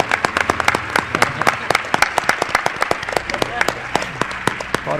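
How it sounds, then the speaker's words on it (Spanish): A live radio show audience in Mérida applauds a guest with a run of sharp, distinct claps, fairly close and steady, while a voice speaks over the clapping. "Un aplauso para una de las almas de Milenio 3"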